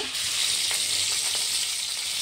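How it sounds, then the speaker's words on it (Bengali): Pointed gourd (potol) coated in salt and turmeric fries in hot oil in a wok, giving a continuous close, bright sizzle with a few soft crackles. "এই দেখুন পটল ভাজা হচ্ছে।"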